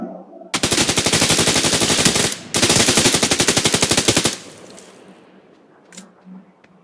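Loud, rapid automatic gunfire in a shooter video game rattles in two long sustained bursts separated by a brief gap, then gives way to quieter game ambience with a couple of faint distant pops.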